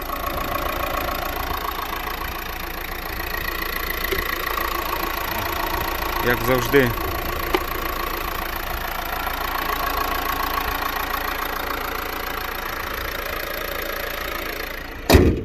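A Renault Megane 4 with a 1.5 diesel K9K engine, Continental fuel system and manual gearbox, about 174 thousand on the clock, idles steadily up close with a low diesel clatter while someone talks over it.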